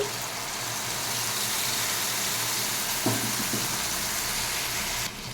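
A steady hiss of mustard-poppy seed paste sizzling in a hot frying pan with fried eggplant, a few soft clinks of a utensil midway and the sound cutting lower near the end.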